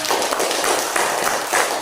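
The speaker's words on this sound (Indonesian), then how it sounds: "Oke, tepuk tangan dulu." Elementary classroom applause during a group presentation: dense, continuous clapping from many pupils, loud and close, filling the whole short stretch without pause.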